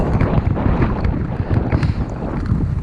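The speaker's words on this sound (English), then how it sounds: "That was a windy day on the coast as well. Much the same as it is right now" Strong gusty coastal wind buffets the microphone in loud, uneven rushes, a continuous roaring bluster with no talking.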